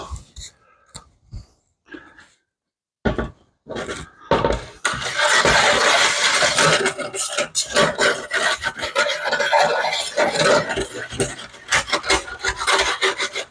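Fond being scraped off the bottom of a prime rib roasting pan on a stovetop burner, a few sparse scrapes followed by dense, continuous rasping and rubbing up close.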